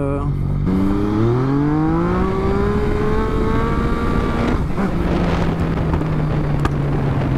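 A Yamaha MT-09 motorcycle accelerating hard on the road, its engine note rising through a gear then settling into a steady drone with wind noise, loud and close.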